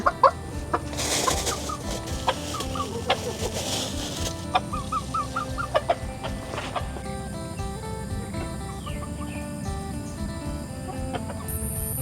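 Chickens cluck and squawk in short bursts nearby, scattered over steady outdoor background noise, with some louder calls early on.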